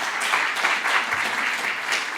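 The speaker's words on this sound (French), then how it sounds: "Tout le monde, on peut donner une bonne applaudissement." Audience applause after a finance talk on investing, a steady wash of many hands clapping at moderate loudness for the whole span, with no speech over it.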